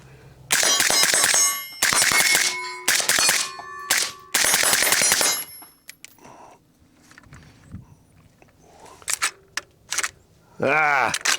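A pistol fires a full magazine close by: two fast bursts of sharp, loud shots with brief gaps, then scattered single shots and a few short bursts toward the end, with faint background noise between.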